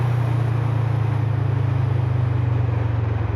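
A Kawasaki Vulcan motorcycle riding in spring weather, its engine a loud, steady low rumble with a fast regular pulsing throb and a rush of wind noise, continuous and close throughout.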